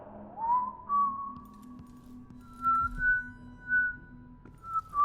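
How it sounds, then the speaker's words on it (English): A character in the Dishonored 2 video game whistles a slow, wavering tune in long sustained notes, clear and close over a low ambient game hum, with no talking. "Stop whistling."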